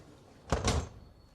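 A police van door is shut with a quick double clunk, one sharp impact and a rattling latch right after, close and fairly loud against faint background hum.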